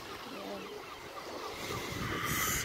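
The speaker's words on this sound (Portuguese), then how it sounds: "Olha o mar, minha gente" Sea surf washes onto the beach at Sopot, Poland, on a cold day, a faint, continuous rumble mixed with wind buffeting the microphone, swelling slightly toward the end.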